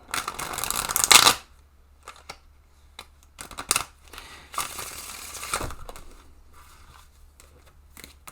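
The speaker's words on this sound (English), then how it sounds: "let's give these a proper shuffle" Tarot cards are shuffled in several bursts, crisp riffling and flicking with short pauses between, close and fairly quiet.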